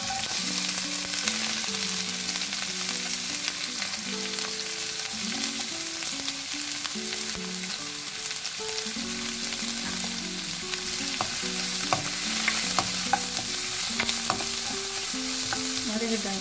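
Finely chopped onion, garlic, ginger and chilli fry in oil for vegetable cutlets, making an even, busy sizzle with stirring scrapes and small crackles while a soft melodic tune plays beneath.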